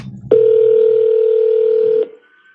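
On an outgoing phone call, a single steady electronic tone sounds for about two seconds, loud and clean, starting and stopping abruptly.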